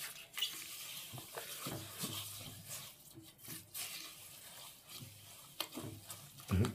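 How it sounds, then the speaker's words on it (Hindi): Sugar being stirred into mashed strawberries for homemade jam, with quiet wet squelching and scraping strokes in a bowl, low in level with faint background noise. "ये मेरे पास 400 ग्राम चीनी है, और ये मैं इसमें डाल दूँगा, और इसको मैं मिक्स कर लूँगा"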